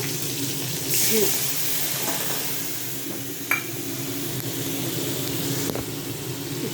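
Green chillies and spice paste sizzle in hot oil while a pabda fish curry cooks, a steady broadband hiss with a brief louder burst near the start and no speech.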